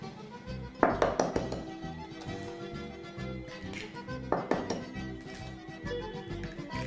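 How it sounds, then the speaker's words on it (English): Two eggs crack against a bowl rim for a sweet potato pie. Two separate clusters of sharp taps and clinks come a few seconds apart at close range, with soft kitchen sounds in between. "I'm just going to crack 2 eggs"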